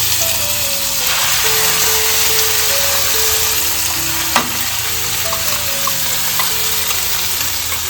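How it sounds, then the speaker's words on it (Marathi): Ground masala sizzles in hot oil in a pan, a loud, continuous close-up frying hiss with one brief knock partway through, no voices. "इकडे ना आपण पॅन मध्ये सर्व तेल तापत ठेवलेलं आहे, तर त्याच्यामध्ये हा सर्व मिक्सरमध्ये वाटलेला मसाला घालून घेतोय"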